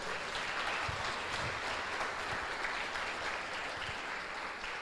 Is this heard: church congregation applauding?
yes